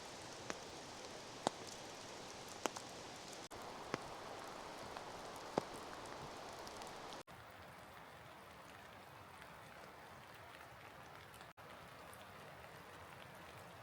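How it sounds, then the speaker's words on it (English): Steady rain falls on a forest trail in Mount Rainier National Park on a wet winter day, a soft constant patter with a few sharper drops and no voices. "as you can see, it really is raining today"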